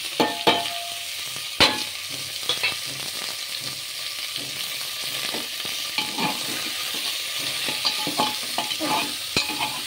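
Spices frying in a pot for a mutton curry with vegetables, a continuous sizzle under repeated scraping and clinking strokes of a spoon stirring, close and steady throughout.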